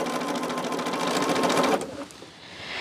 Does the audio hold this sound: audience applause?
no